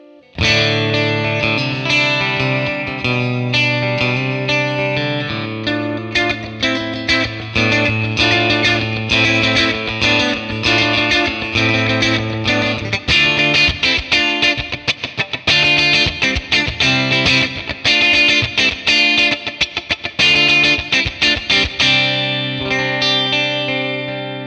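Clean electric guitar on the middle pickup into a 1966 Fender Blackface Bassman amp with reverb, sustained chords giving way to quick strummed and picked rhythmic playing, loud and close, no voices.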